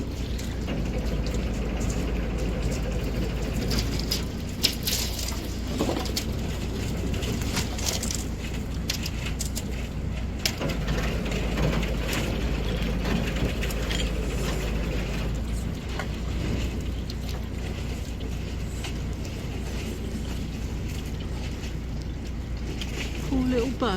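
A narrowboat hull grinds and crunches through thin ice in a steady, continuous scraping roar with scattered cracks and knocks, close and loud, while people talk over it.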